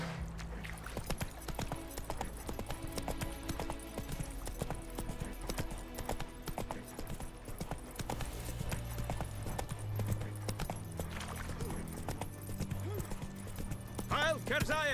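Horse hooves clip-clop steadily in The Witcher 3, a rhythmic gallop running under game music and other effects, with a brief voice near the end.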